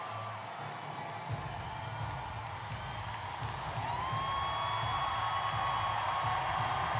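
Crowd at a Kamala Harris and Tim Walz campaign rally in Philadelphia cheering and applauding, a steady dense roar that swells louder in the second half with rising whoops.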